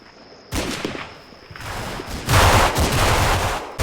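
Machine-gun and rifle fire in the Combat Mission: Fortress Italy wargame as an Italian heavy machine gun team is engaged: bursts of dense, overlapping shots that start abruptly and swell louder midway, sustained throughout.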